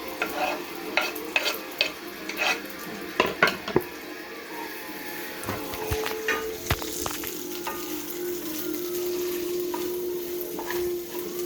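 Tofu scramble with jalapeno frying in olive oil in a pan, a steady sizzle beneath repeated scraping and clacking stirs of a utensil against the pan, louder in the first few seconds.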